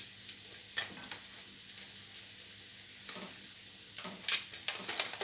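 Fish balls made with flaxseed fry in a pan, a soft continuous sizzle broken by sharp clicks and scrapes of stirring and turning, growing busier toward the end.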